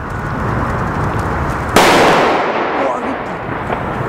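A German firecracker goes off outdoors with one loud, sharp bang that decays into a rumbling tail over steady background noise.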